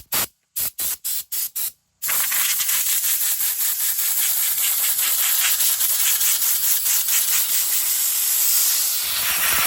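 A chainsaw chain is sharpened with the saw clamped in a vise: a few short rasping bursts, then a steady, loud, grinding hiss with a faint repeating rhythm, close by and with no talking.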